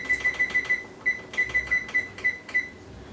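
Kitchen timer going off during pumpkin pie baking, rapid clusters of sharp electronic beeps in repeated bursts with short gaps, close and fairly bright.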